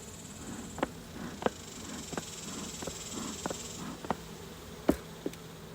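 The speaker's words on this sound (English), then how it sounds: "There is this metric ton of bees in here." A large colony of honeybees in an open hive box, with frames covered in bees, gives a steady low buzzing close by, broken by a few short sharp clicks and knocks.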